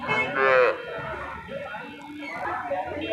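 A cow gives a short, close moo at a busy cattle market at Talgachhi, followed by a murmur of low voices and market background noise.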